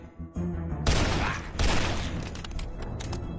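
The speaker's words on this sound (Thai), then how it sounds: "ขอใช้เป็นปืนลูกซองแล้วกันนะฮะ" Shotgun blasts in a mafia-versus-zombies game: two loud, close booming shots about half a second apart, each trailing off into a long noisy roar.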